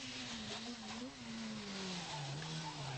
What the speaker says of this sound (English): Still a successful rally car, the 309 GTI.